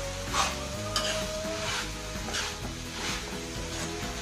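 Vegetable hakka noodles are stirred and tossed in a hot pan over a high flame, giving a steady sizzle with repeated scraping strokes of a utensil against the metal, close and moderately loud, with no talk.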